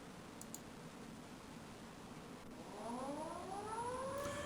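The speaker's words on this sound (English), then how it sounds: "those sirens produce the creepiest sound in existence." An air raid siren from the German Blitz in the adventure game Titanic: Adventure Out of Time rises in pitch from about three seconds in, wailing over a steady background hiss, with no one talking.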